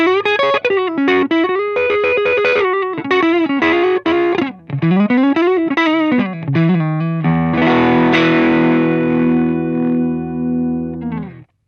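Electric guitar played through a Friedman Golden Pearl transparent overdrive and boost pedal, loud and alone: a run of quick melodic notes with crunchy drive, then a sustained ringing chord that fades out.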